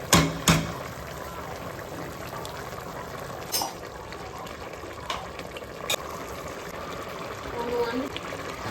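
Water comes to a rolling boil in a cooking pot for drumstick biryani, bubbling and simmering steadily close by, with a couple of sharp clinks near the start and soft clatter later.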